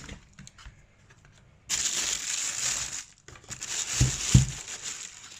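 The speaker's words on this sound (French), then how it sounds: "Bon les gars, il est temps d'ouvrir cette boîte." Cardboard shoe box for Curry 8 basketball sneakers being opened: soft crinkling and scraping, then a sustained loud papery rustle and crumple from about two seconds on, with a couple of louder thuds near the end.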